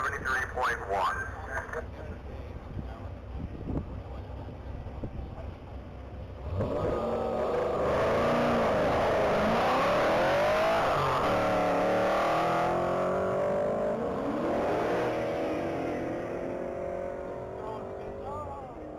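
A 2010 Camaro SS race car at a top-speed mile event, its engine roaring up loud and rising steadily after a quieter start with voices, then holding a sustained high-revving drone as it accelerates past.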